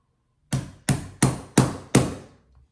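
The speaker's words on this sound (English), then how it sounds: "Get your priming rod, have the dimple end goes down. You want to give it some taps." A priming rod tapping a large rifle primer into a 45-70 Government cartridge case during hand reloading, five firm, evenly spaced knocks with short decays, close and loud against near silence, with no talking.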